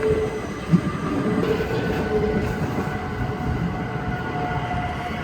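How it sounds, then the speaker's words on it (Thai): Swiss passenger train pulling into Wilderswil station on the Grindelwald–Interlaken line, with a steady rumble of wheels and carriages, a faint squeal, and continuous rolling noise throughout. "ขบวนรถไฟ มาถึงสถานีไวเดอร์สวิลครับ"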